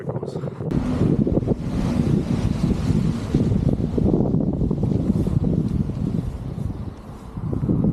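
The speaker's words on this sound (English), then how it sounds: "It does feel a little bit windy" Strong, steady wind buffeting the microphone on a small hill, Dumgoyne in Scotland, a loud continuous roar with rumbling gusts throughout.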